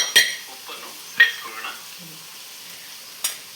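Spices roast on low flame in a pan while a spoon stirs them, giving three sharp scraping strokes spaced a second or two apart over a faint, quiet sizzle.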